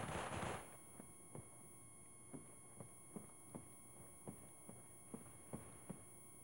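Rifle gunfire from an M4 in the mobile shooter game Critical Ops: a burst at the start, then about a dozen evenly spaced sharp single shots ringing out over a steady faint background, with no talk.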